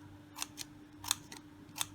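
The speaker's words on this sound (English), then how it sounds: "I just took my normal regular scissors and I created that effect like this by repeated cutting." Ordinary scissors snip paper into fringes for a gift bag, a handful of quick, crisp, faint close-up cuts in an irregular rhythm over a quiet hum.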